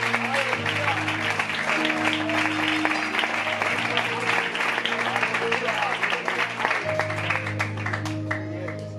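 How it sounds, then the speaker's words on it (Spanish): Church congregation applauding in praise at an evangelical service, a steady sustained wash of clapping that fills the whole stretch while an organ or keyboard holds chords underneath. "Denle un aplauso al Señor, por favor"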